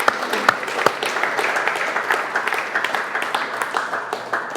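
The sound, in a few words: audience applause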